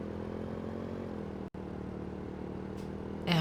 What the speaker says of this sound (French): Oh, la moto elle a du mal à en monter.